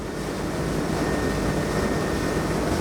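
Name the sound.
Saxdor 270 GTO boat outboard engine at speed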